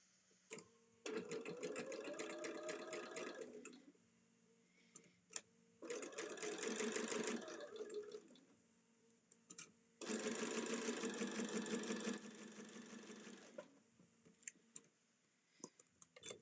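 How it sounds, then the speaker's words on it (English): A sewing machine stitching LeMoyne star quilt pieces in three steady runs of rapid, even needle clatter, each a few seconds long, close by with short quiet pauses and small clicks between runs. "And then we'll sew down that"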